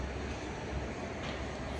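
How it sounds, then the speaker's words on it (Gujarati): The Saurashtra Express, a regular passenger train running from Porbandar toward Bombay, rumbles through Sabarmati station as a close, continuous roar of rolling stock with no voices. "આપ જોઈ રહ્યા છો સમય ડિજિટલ સાબરમતી સ્ટેશનથી 16 અપ સૌરાષ્ટ્ર એક્સપ્રેસ પોરબંદરથી"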